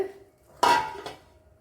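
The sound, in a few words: cut okra tipped into a cooking pot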